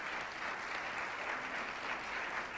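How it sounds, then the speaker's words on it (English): A crowd applauds mayors at a public forum, a steady, dense wash of clapping that holds evenly throughout. "Let's give them a round of applause in advance."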